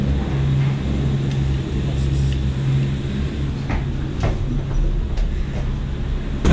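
Riding the Mi Teleférico White Line cable car in La Paz, Bolivia, gives a steady low mechanical hum with scattered faint clicks and creaks, continuous and close, with no voices.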